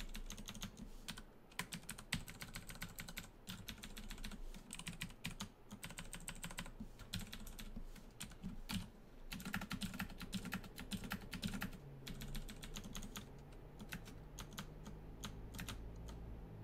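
A computer keyboard clatters in rapid, dense bursts of key presses, with the Tab key hit repeatedly during a Dungeon Crawl Stone Soup game, quiet and close with no talking.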